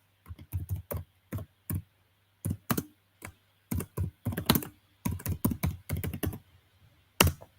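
Keys on a computer keyboard tapped in short bursts of irregular clicks and thumps, close and fairly quiet, with brief pauses between runs and no talking.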